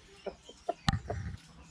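A rooster in a garden on Réunion Island gives a few soft, short clucks close by, with one sharper louder note in the middle.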